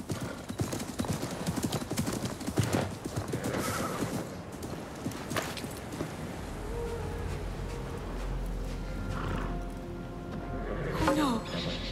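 Hooves clip-clop steadily among busy background sounds and a horse's whinny, with a voice speaking over the scene, in the video game Assassin's Creed Mirage.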